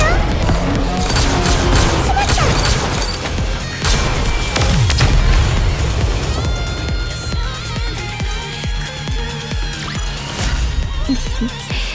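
A concentrated gunfire barrage in a video game, Exotic, mixes dense shots, booms and crashes in a loud, continuous layered battle mix. Voices and music run underneath.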